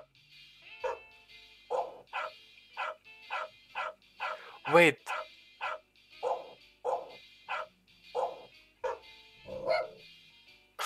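A video game dog barks angrily in a rapid series of a dozen or more sharp yaps in the quit-game Easter egg. One louder bark stands out, and a brief spoken word comes partway through.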